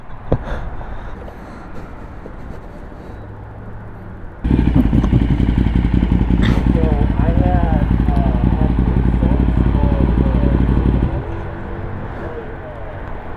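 MV Agusta motorcycle engine with loud exhaust idling steadily, then jumping to a louder, fuller rumble for several seconds before settling back, with people talking over it.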